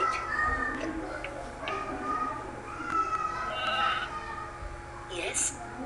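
A toy sheep gives a bleating call, heard up close over a busy background of voices and ticking noise, with steady room sound throughout.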